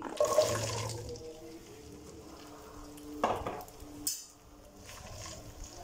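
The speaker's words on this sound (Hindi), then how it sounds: "भिंडी को अच्छी तरह से मिक्स कर दें ऑयल के अंदर, ताकि ये सारी अच्छी तरह से फ्राई हो जाए।" Okra sizzling in ghee and oil in a wok, a steady low frying hiss with scattered stirring clatters and a sharp knock near the middle, fairly quiet and close with no talk.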